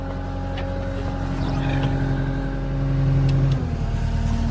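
Bucket loader engine running while moving dirt on a small homestead ranch, a steady close diesel drone that swells slightly as the throttle rises.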